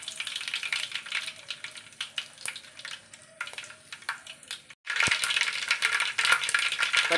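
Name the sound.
mustard seeds sizzling in hot oil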